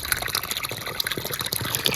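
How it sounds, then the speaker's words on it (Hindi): Water gushes and splashes steadily into a green farm field, a loud, continuous turbulent rush with no talking. "अभी देखें कैसे पानी आ रहा है"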